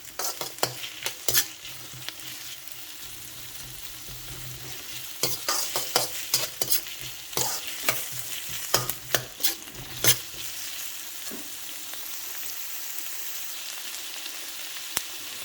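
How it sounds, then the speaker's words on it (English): Vegetables sauté and sizzle in a pan over a medium flame, a steady frying hiss broken by repeated scraping stirs of a spatula against the pan. "saute it till it's golden. I'm keeping the flame in medium."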